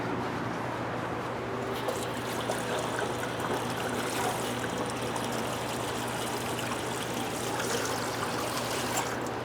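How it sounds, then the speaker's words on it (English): Cold tap water runs steadily as a raw chicken is rinsed in a kitchen sink, a continuous close splashing trickle with a faint low hum beneath. "I'm going to rinse it out with some cold water first"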